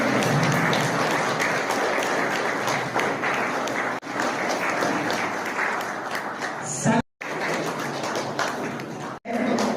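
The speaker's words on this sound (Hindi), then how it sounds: "सभी से निवेदन जोरदार तालियों के साथ डॉक्टर साहब का स्वागत करेंगे।" Hearty audience applause welcomes a doctor at a diabetes awareness seminar, a loud, sustained burst of clapping with two brief dropouts near the end.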